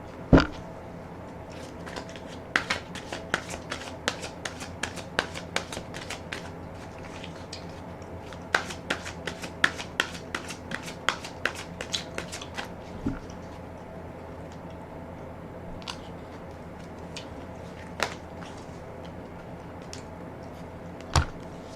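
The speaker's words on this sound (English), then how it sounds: "Let me pull a card." Tarot cards shuffled and pulled from the deck at close range: a run of crisp, irregular snapping clicks, dense for several seconds and then thinning to a few scattered taps, with no talking.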